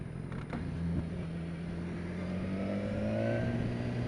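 A BMW S1000XR motorcycle engine runs steadily under a quick-shifter gear change, with a droning low tone that steps in pitch and a brief bump near one second, close and fairly loud throughout.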